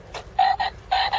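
A cheap pound-shop toy frog croaks in a shed, giving a brief electronic chirp followed by two loud, close croaking pulse pairs in quick rhythm, with no talk over it.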